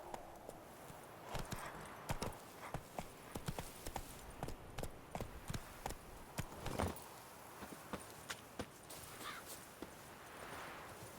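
Roach, a horse in The Witcher, clip-clops steadily on hooves at a walking-to-trotting pace, a regular run of sharp hoof strikes close by with no talk.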